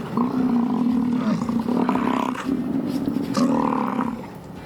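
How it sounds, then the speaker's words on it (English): Bison during the rut in Yellowstone National Park give deep, continuous grunting roars that fill the whole stretch, loud and close, with overlapping animals rumbling together. "And it is the rut right now. You can hear the noises that they're making. It's just incredible. They're grunting"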